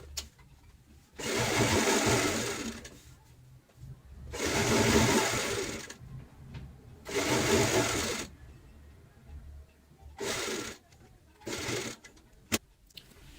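A sewing machine stitching a pillow cover runs in several bursts, three longer runs of about two seconds, then shorter ones, with quiet pauses between and a brief click near the end.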